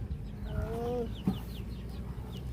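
Chickens cluck softly at a home, with short scattered calls over low background noise and one louder knock partway through.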